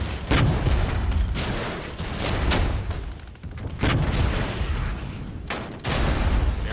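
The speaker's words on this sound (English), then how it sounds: "Talk about intense fire here, folks." Intense battlefield gunfire rages in the Cold War real-time strategy game Regiments: loud, dense volleys of rifle and machine-gun fire with heavy booms rolling continuously, no voices.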